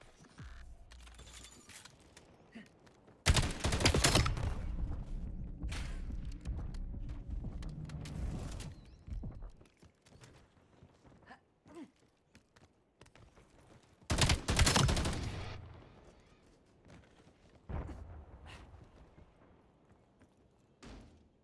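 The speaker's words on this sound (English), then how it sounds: "I'm using a shotgun." A shotgun fires in a video game: a couple of loud, heavy blasts spaced apart over quieter game noise, with no voices.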